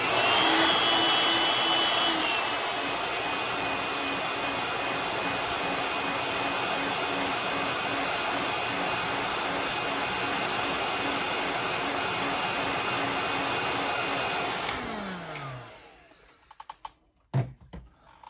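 Heat gun blowing hot air to set paint on a fishing lure, a steady loud roaring whoosh with a faint whine that holds for about fifteen seconds, then cuts off and spins down, followed by a few small clicks.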